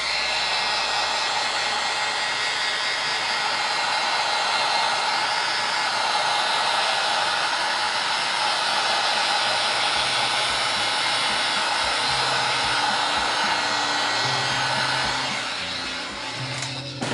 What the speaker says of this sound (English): I've not used my heat gun. Let's see if heat does anything to this.